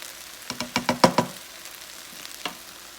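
Homemade hash browns frying in a pan, a quick run of sharp crackling pops and knocks up close, then a quieter sizzle with a lone later pop.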